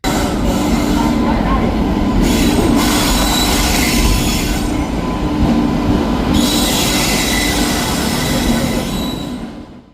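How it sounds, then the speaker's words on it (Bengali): The Guwahati Express (train 12509) arrives at Kharagpur station with a loud, continuous rumble of rolling coaches. Wheels squeal and clatter over the rails, and intermittent hissing is heard as it slows, with faint voices underneath. "আমাদের ট্রেন অলরেডি দেখুন চলে এসেছে।"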